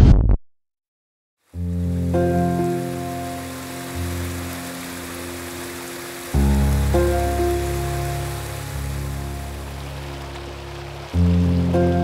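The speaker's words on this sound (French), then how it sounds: "la pluie est littéralement arrivée 30 secondes après que j'ai dit ça" Steady rain falls on the Machame route of Kilimanjaro, a broad hiss that continues throughout, cut by a brief near-silent gap at the start and layered with sustained tonal music.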